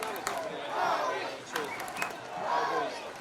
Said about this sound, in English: Crowd really lively here.